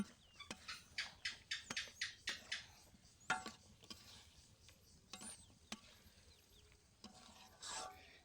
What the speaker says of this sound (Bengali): কবুতরের মাংস রান্না করতেছি।